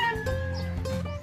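A broody mother hen clucks close by in a short, low, throaty run of a few clucks.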